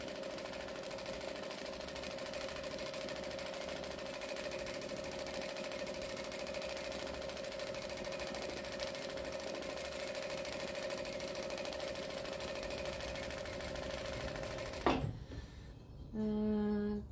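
A sewing machine running in a long, steady, close mechanical hum with a fine rapid rattle, stopping abruptly near the end, followed by a brief clunk and a quieter tone.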